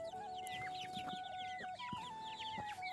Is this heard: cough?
no